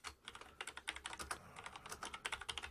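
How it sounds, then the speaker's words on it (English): Fingers type a message on a computer keyboard in rapid, uneven bursts of crisp key clicks, close and fairly quiet, with a brief pause midway and no talking. "type in a message."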